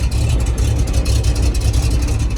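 An old farm truck engine, about seventy years old, idles steadily with a low rumbling drone and slight irregular pulsing, loud and close with no pauses.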